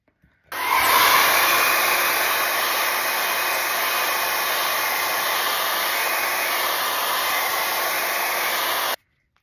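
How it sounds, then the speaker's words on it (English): A hair dryer switches on and blows with a steady, loud whooshing roar for several seconds, then cuts off abruptly. "Just going to give it a quick dry with a hairdryer."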